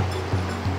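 Sea waves wash onto a soft sandy beach, a steady full roar of surf with gentle swells in the wash and no voices.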